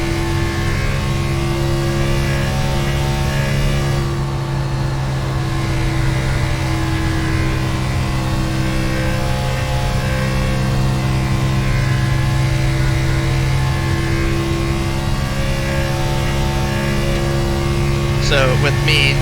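A racing car engine in a sim racing game drones loudly and steadily at a sustained pitch throughout, with voices talking over it at times.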